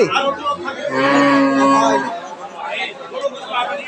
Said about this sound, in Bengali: এটা একটা ফ্রিজিয়ান গাভী